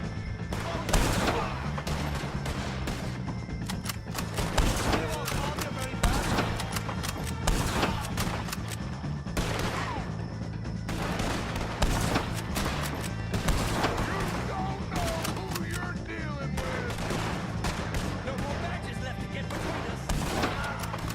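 Gunfire during a shootout with O'Driscoll gang members in Red Dead Redemption 2, with repeated sharp shots and crashing impacts over a steady background hum, mixed with frequent shouting voices.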